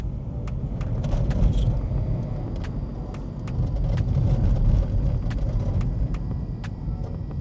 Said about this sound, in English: this is what the Honda Civic looks like, and we're gonna go for a little drive right now, give her the beans.